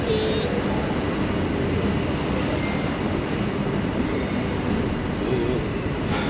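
Rapid KL metro train in Malaysia, a steady broadband rumble and rushing roar of a moving train heard close, continuous without pauses.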